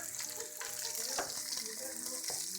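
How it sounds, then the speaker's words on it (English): Onions frying in a pan with garlic for goulash soup, a steady close sizzle with faint stirring scrapes and no talk. "Now next I'm going to put the onions in"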